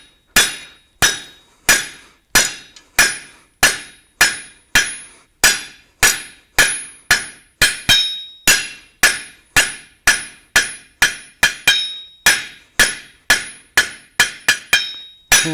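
On an anvil, a blacksmith's hammer forges the shoulder of a hand-made nail with loud, ringing metallic blows at a steady rhythm of about two strikes per second, quickening near the end, with no talk.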